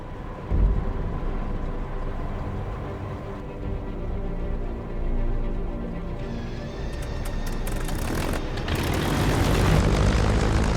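A Hawker Hurricane's propeller engine drones steadily and fairly loud throughout, swelling to a rougher, broader roar in the last few seconds as the old fighter builds power.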